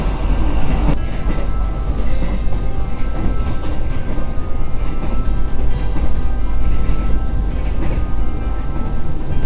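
An executive passenger train runs along the rails, heard from inside as a loud, steady low rumble with faint rhythmic clatter of wheels over joints throughout.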